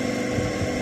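An electric motor under repair, its clutch engaging, gives off a brief, steady, close droning hum with a low vibrating rumble and no voices.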